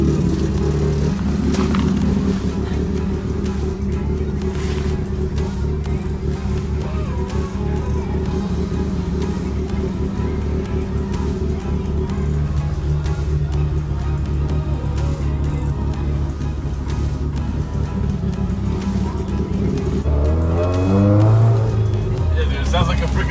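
Subaru WRX engine revving loudly and continuously with a short shift, a steady drone that swells into a rising rev near the end.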